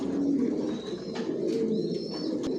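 Racing pigeons in a loft coo softly and steadily, a low murmuring coo running throughout with a few faint higher chirps and rustles nearby.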